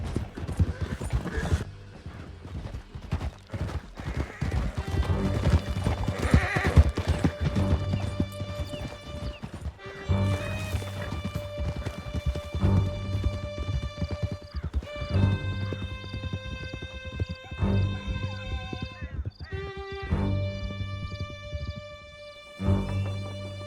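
Several horses gallop hard through a canyon in Red Dead Redemption 2, their steady clip-clop hoofbeats loud and continuous, with occasional whinnies over a sustained musical score.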